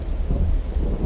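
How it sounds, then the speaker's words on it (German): Thunderstorm ambience in the video game The Infected: a steady low rumble of thunder with dense rain noise, fairly loud and continuous throughout, with no voices. "Es ist einfach direkt wieder Gewitter."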